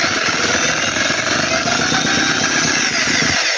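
A vintage Chinese Holt H75 four-cylinder engine being cranked for a first start, giving a loud, steady, rough mechanical clatter that runs continuously and close up, with no voices over it.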